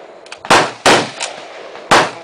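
Three sharp AK-47 rifle shots ring out at an outdoor range, loud and close, with irregular gaps between them and brief decaying echoes after each crack.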